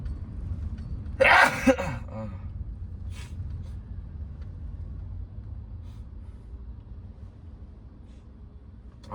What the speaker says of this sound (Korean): 죄송합니다. 재채기가 그냥